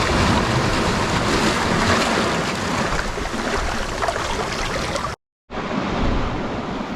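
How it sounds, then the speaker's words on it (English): Wind and rain on a grey winter shoreline while bass fishing, gusting in a dense continuous roar straight against the camera microphone, with a short dropout near the end and no talking. "The wind and the rain is coming right in here, as you can probably tell. It's blowing over the camera now."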